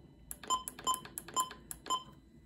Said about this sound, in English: this is the 400's beeps